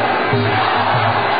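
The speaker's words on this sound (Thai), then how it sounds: "กองเชียร์นี่กรี๊ดกันสนั่นเลยครับ" Loud, steady roar of a Muay Thai fight crowd screaming and cheering in a packed stadium, a continuous wall of massed voices with no pauses.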